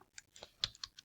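A few quick, quiet clicks of keys on a computer keyboard as a command is typed, about half a dozen taps in just over a second.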